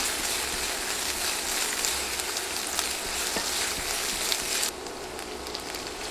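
A large sliced onion frying in hot oil for Bengali alu bhaji, a loud continuous crackling sizzle with a few clicks of stirring, dropping abruptly quieter near the end, with no talk.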